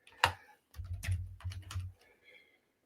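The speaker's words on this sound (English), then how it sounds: "You'll excuse my typing" Computer keyboard typing during a Medicare 2026 plan walkthrough: a few quiet, close key clicks in short bursts, with no talk over them.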